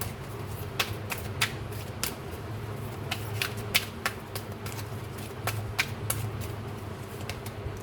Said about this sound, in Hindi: चलिए मैं यहाँ से आपके लिए कार्ड निकालूंगी